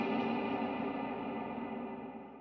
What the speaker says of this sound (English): the reverb by itself sounds like this.